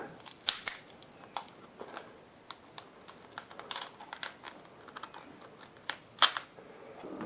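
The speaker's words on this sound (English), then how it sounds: "you can just use a nut cracker just to cut it like that" A nutcracker cutting through a lobster shell, giving irregular sharp cracks and snips, some louder crunches among quieter clicks, spread across several seconds without speech.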